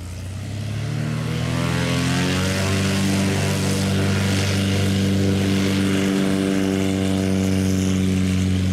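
Propeller airplane on a normal takeoff, engine drone rising to a loud steady roar with strong harmonic tones that climb in pitch as it accelerates, continuous and close.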